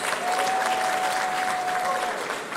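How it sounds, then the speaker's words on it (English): Steady round of applause from the audience at a university engineering graduation ceremony in Ghana, dense and even throughout, with a faint whistle-like tone running beneath. "Give them a resounding round of applause"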